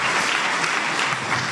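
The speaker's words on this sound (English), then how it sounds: "Let us appreciate them again with a mighty hand clap." A church congregation applauds a choir, steady dense clapping filling the space throughout, loud and close with no talk over it.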